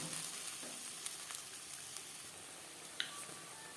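Ground paste of tomato, ginger and green chilli frying in oil: a faint, continuous hiss of sizzling with a few small clicks and pops, no voices.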